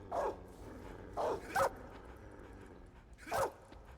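A few distant dog barks in Metal Gear Solid 3, four short faint yelps spread over several seconds against quiet game ambience.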